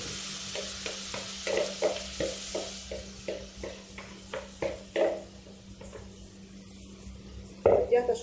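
Browned vermicelli and rice are stirred in a pan on the stove, a steady rhythm of scraping spoon strokes over a soft sizzle, close and fairly loud, with faint clinks of the pan.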